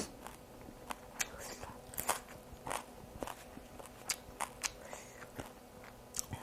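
Someone eating Lao-style papaya salad with noodles and vegetables, producing a series of close, crisp bites and crunches at an uneven rhythm, with softer chewing and faint movement noise between them.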